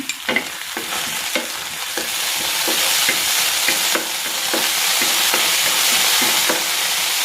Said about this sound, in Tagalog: Ilalagay ko muna dito itong oil nitong tuna. Igigisa ko na dito itong bawang.